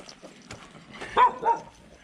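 A chained dog barks twice in quick succession, moderately close, with faint background noise and no talking.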